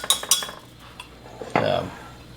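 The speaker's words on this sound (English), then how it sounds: "so just gonna give it some stirs to help the melting" Spoon stirring melting butter in a metal pot for béchamel, a few sharp clinks and scrapes against the pot, a short pause, then a brief louder scraping swirl at the end.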